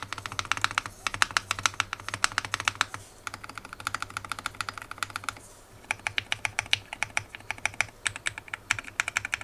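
Keys clack on a GMK67 mechanical keyboard fitted with lubed Akko Yellow Pro V3 switches, fast continuous typing in close bursts with two short pauses, crisp and nearby.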